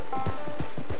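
Horse hooves clip-clopping at an even walking pace, about five distinct close hoof falls in quick succession with no talk.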